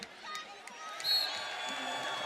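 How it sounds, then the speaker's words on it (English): High school girls' basketball crowd at a Class 3A state semifinal, Mount Vernon vs Estherville-LC, giving a Bronx cheer to the officials, a faint, distant wash of crowd noise in a gym under a commentator's voice. "And a Bronx cheer going up for the officials."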